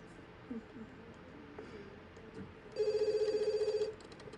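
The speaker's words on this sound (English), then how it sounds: "Yeah, Amber, you need to answer the phone." A telephone rings in a video game, a burst of steady electronic trills partway through, clear and fairly loud over a faint background.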